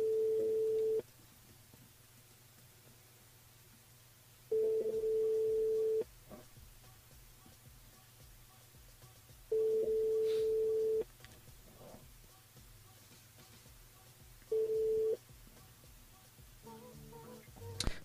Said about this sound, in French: on appelle Nadège du côté de Saint-Jean.